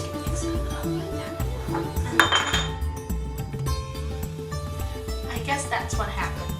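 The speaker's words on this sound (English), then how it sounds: "Just gonna mix it up like that." Cake batter for Easter bird's nest cakes being mixed in a bowl produces clinking and scraping of a utensil against the bowl, with voices talking over it.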